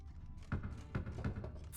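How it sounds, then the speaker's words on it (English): Knuckles knocking on a wooden wine barrel in Witcher 3, about four dull, muffled thuds at an uneven pace, close and fairly quiet. "For now, a knock will suffice. If you hear a hollow thud, we will have found what we seek."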